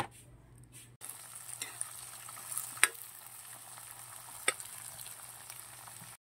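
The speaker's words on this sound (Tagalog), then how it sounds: "busa nato ibutang atong mani" Peanuts fry in hot cooking oil with a steady, soft sizzle, broken by a couple of sharp pops and clicks from the pan.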